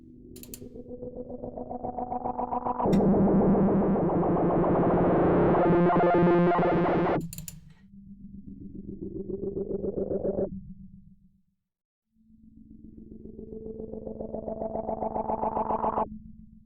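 An Arturia MicroFreak hardware synthesizer's tones sweep upward in rising, pulsing patterns with tempo-synced modulation, a buzzy modulated sound that stops and restarts several times, with no talking.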